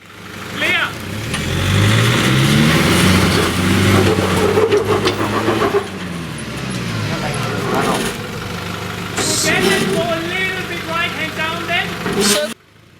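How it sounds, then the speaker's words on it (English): A manual Nissan Patrol 4WD without crawler gears revs hard while climbing a steep offroad track at Baal Bone Gap, the engine roaring and rising and falling in pitch throughout, with voices faintly audible in the background. "Not having crawler gears in his manual patrol certainly doesn't help here."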